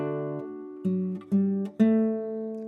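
Classical guitar playing the second measure of Robert de Visée's Minuet, four clean plucked notes in slow succession, each ringing and decaying before the next, close and alone with no talking.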